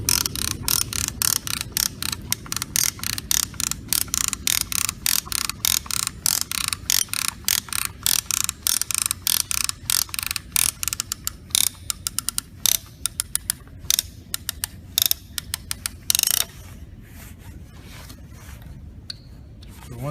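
A hand strapping tool ratchets to tension a cord strap, giving a long run of rapid, evenly spaced clicks up close. The clicks slow and grow sparser near the end before stopping.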